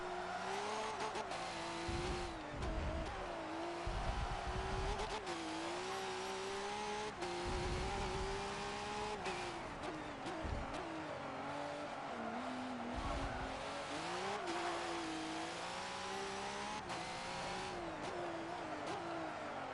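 V8 Supercar race cars roar around Circuit of the Americas in the video game Forza 7, a loud continuous engine drone rising and falling with revs and gear shifts, with bursts of tire squeal and skidding.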